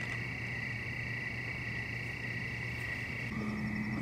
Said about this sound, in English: The crickets are kind of loud for such a cold night.